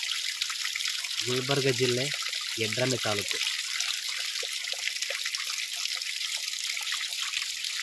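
Borewell water in Yadrami taluk, Gulbarga district, gushing out nonstop as a steady, broadband hiss and rush, with someone speaking briefly over it near the start.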